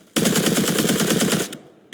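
Kalashnikov rifle firing in the online shooter Combat Arena: a loud, sustained automatic burst of rapid, evenly spaced shots lasting about a second and a half, then stopping, with no talk over it.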